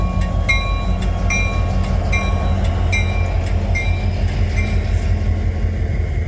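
A BNSF freight train rolls steadily past in Abbeville, with a loud continuous rumble and rhythmic wheel clatter on the rails. It sounds close throughout, with repeated metallic ringing and squeal tones over the roar.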